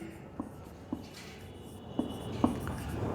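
Chalk or marker taps and strokes on a board during a Hindi-medium maths class on relations, a handful of short, soft marks spaced over a quiet room.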